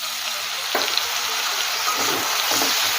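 Chopped tomatoes hit a pan of onion, ginger and garlic paste frying for a Odisha-style aloo dum, raising a steady broad hiss and sizzle with a few soft thumps, close and continuous without speech.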